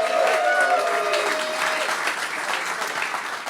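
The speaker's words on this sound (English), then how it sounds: "light smattering of applause that I got." A studio audience gives a light smattering of applause for a comedian being introduced on a talk show, scattered claps fading gradually, with a voice briefly heard at the start.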